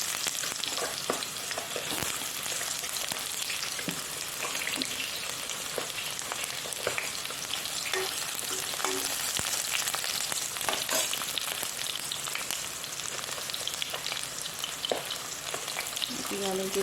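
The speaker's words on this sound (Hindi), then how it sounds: "गरम हो चुका है कढ़ाई, तो हम इसमें डालेंगे अनियन।" Onions fry in a hot kadhai with a continuous bright sizzle, punctuated by occasional clicks and scrapes of stirring, close and fairly quiet throughout with no talking.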